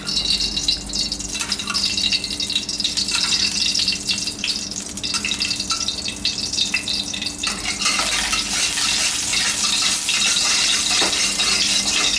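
Naem, Thai fermented pork sausage, torn into a pan of hot oil for stir-fried naem with egg, sizzling and frying steadily with scraping stir strokes throughout, loud and close, no voices.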